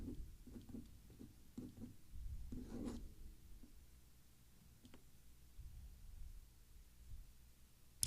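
Handwriting with a pen on paper while working flip-flop conversions: short scratchy strokes in quick bursts, with quieter pauses between, close and soft, with no talking.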